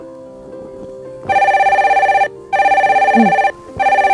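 A telephone rings indoors in a loud electronic trill, three bursts about a second long with short pauses between, preceded by faint background sounds, no talk.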